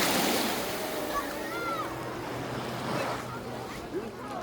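Sea surf washes steadily onto the hotel beach of the Güral Premier Tekirova in Kemer, a continuous broadband rush of breaking waves with voices of people talking nearby over it.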